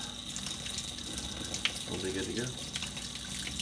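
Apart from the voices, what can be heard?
tap water running for a dog bath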